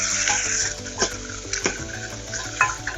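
Zucchini sautéing in a pan for ramen, a steady sizzle broken by a few sharp utensil scrapes and clinks against the pan, with a low background hum.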